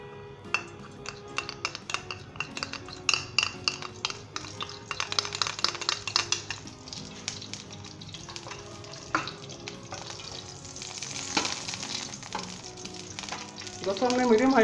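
Vegetable ghee heating in a frying pan over medium-high flame, with a soft sizzle and scattered clinks and scrapes of a utensil against the pan.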